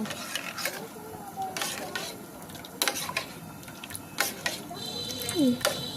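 A spoon stirring powdered milk into hot water, soft swirling and light clinks against the vessel, with a voice talking faintly in the background.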